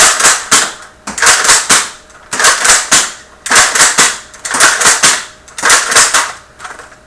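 A foam dart blaster with an 18-dart clip firing in rapid bursts, sharp mechanical snaps in quick groups of three to four shots, repeated roughly every second, loud and close without talk.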